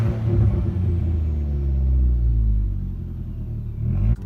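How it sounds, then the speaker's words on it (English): An Audi A4 B6 1.8T Quattro with a custom straight-pipe exhaust and burble tune revs, giving a loud, close, deep rumble. A sharp pop cracks near the end as the revs fall. "it seems to be doing a lot more of like the little popcorn when I rev it"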